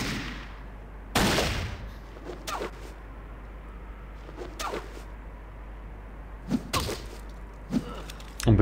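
Scattered gunshots in the video game Fallout crack out one by one, sharp and separated by quiet gaps, with a few quicker pairs toward the end and no speech.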